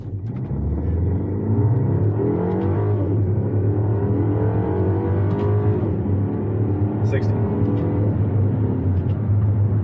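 A BMW X1 launches from about 1500 rpm and accelerates hard toward 60 mph, its engine rising into a loud, steady roar heard from inside the cabin, with a brief voice at the start.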